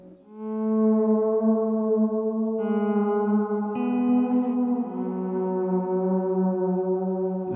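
Sustained electric guitar notes ring out through heavy distortion, delay and reverb, swelling into a wailing, echoing drone that shifts pitch in a few steps and lingers loud without pause.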